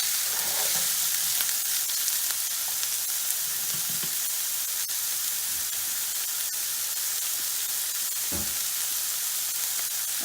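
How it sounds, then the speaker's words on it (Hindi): Carrots fry in oil in a pan for an Odia vegetable cheese pasta, giving a steady, close hiss of sizzling with a few faint stirring knocks throughout, no voices. "गाजर को टिके ऐड करदे टिके फ्राई करदे तेल सहित"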